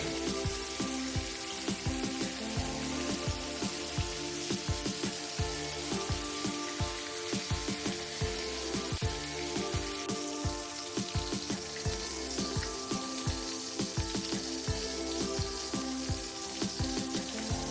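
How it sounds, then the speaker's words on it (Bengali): Chopped onions frying with spices for ghugni, a loud steady sizzle of hot oil with crackling pops and occasional stirring clinks, close up with no talking. "মশলাগুলো আমার ভাজা হয়ে গেছে এরপর আমি দিয়ে দেব আগে থেকে কুচিয়ে রাখা পেঁয়াজ"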